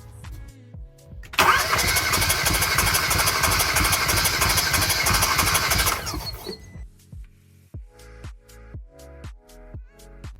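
A Hyundai Veloster turbo engine with a damaged piston cranks on the starter during a compression test, a loud rapid rhythmic churning for about five seconds that then stops, followed by scattered clicks and clunks.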